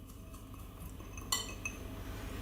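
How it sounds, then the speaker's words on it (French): A utensil stirs chopped onions, halved cherry tomatoes and flat-leaf parsley in a bowl, giving soft, steady scraping with a couple of sharper clinks against the bowl partway through. The sounds are quiet and close, and no one speaks. "Je mélange à nouveau."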